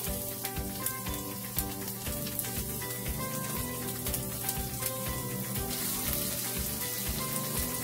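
Garlic and onions frying in oil in a pan for vegan pad thai, a steady dense crackling sizzle with scattered pops, close and continuous throughout without any talking.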